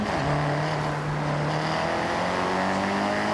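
A car in Forza Horizon 6 drives fast through the Japanese countryside, its engine holding a loud, sustained drone with a slowly rising pitch and no break.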